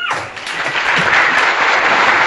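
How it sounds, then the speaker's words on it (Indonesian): Applause from an indoor audience at an Indonesian talk session, a dense and steady wash of many hands clapping close by, filling the whole short span without talk. "Dan kita kasih tepuk tangan buat kita semuanya"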